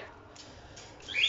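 Parrots squawk in a short harsh burst that swells toward the end, following a stretch of faint low background, with no one speaking.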